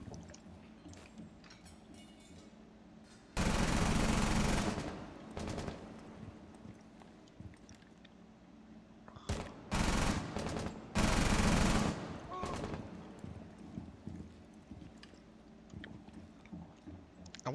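Gunfire in Rainbow Six Siege: two loud, sustained automatic bursts, with a cluster of shorter shots between them, all set against a steady low game ambience.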